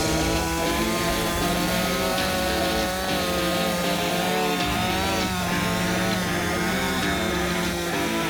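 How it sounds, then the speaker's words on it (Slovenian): A chainsaw runs steadily through wood during forestry work, its loud, continuous engine whine holding near and strong throughout with slight shifts in pitch as it bites into the cut. "tako odločna je tudi pri delu z motorno žago"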